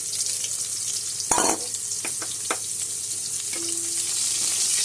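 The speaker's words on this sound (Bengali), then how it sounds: "পেঁয়াজটা মোটামুটি ভাজা হবে।" Chopped onion and black cumin sizzle in hot oil for a fish curry, a steady close frying hiss broken by a few sharp stirring clatters, with no voices.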